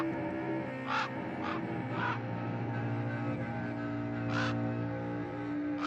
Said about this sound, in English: in there stepped a stately raven of the saintly days of yore